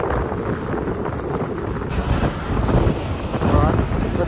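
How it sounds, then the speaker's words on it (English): Strong wind gusting against a rock wall by the sea, a steady loud roar with buffeting microphone rumble that swells in the second half, with a voice speaking over it. "As you can tell, the wind's picked up a little bit."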